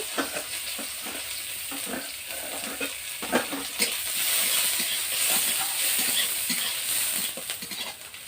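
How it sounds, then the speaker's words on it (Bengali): Chopped onion frying in mustard oil with a pinch of black cumin seeds in a karahi makes a loud, steady sizzle and hiss near at hand, with repeated scraping and clattering of stirring throughout and no talking. "পেঁয়াজটা আমার লাল লাল করে ভাজা হয়ে গেছে"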